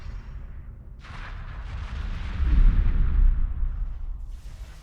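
Heavy battleship turrets in the space game X4 Foundations fire on small ships, a deep rolling boom swelling into a loud low rumble of explosions that peaks midway and then slowly fades.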